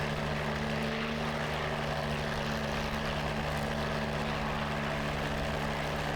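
P-51D Mustang propeller engine in the DCS flight simulator, a dense steady drone with a low, even hum that holds constant and loud throughout, with no voices.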